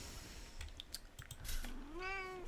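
A pet cat lets out a short rising meow near the end, close and clear, after a few soft keyboard clicks at a computer during a Grey Goo game session.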